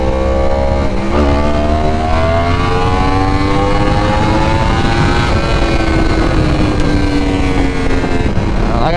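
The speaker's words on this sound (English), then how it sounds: "I don't know if you guys can hear this exhaust, dude." A motorcycle exhaust drones loud and close during a ride through traffic, a steady rumbling roar with a short rev near the start and a gradual pitch shift as the engine speed changes, alone without talk.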